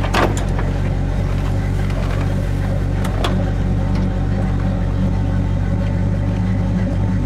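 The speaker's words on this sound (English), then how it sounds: "Idling about 600 to 700 RPM." A 1971 Chevrolet Chevelle convertible idles at about 600 to 700 RPM, a steady low rumble running close and continuous for the whole stretch, with a couple of brief sharper clicks near the start and middle.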